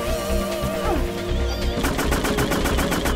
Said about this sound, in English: We gotta get the machine gun out.